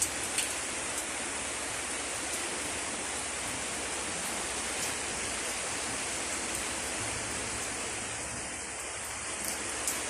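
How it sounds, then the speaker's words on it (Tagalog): Heavy typhoon rain pours down in a constant, roaring wash of noise, unbroken for the whole stretch with no talking. "napakalakas na ng ulan dito guys"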